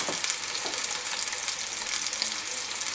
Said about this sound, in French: on les fait colorer. Et on fait colorer tous les morceaux.